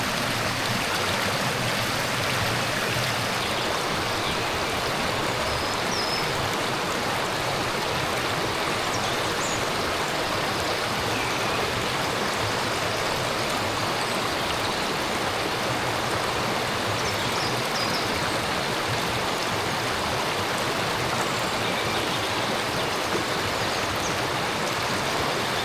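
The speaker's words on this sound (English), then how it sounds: "Might be able to get something from here with the water flowing away from us." Stanhope Burn, a moorland stream, flows steadily in a broad, constant wash of rushing water, close and continuous with no voices.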